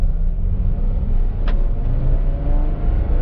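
A Ferrari F12 TDF pulls away at very low throttle, a steady, fairly close engine rumble with a faint valve click midway, no talking.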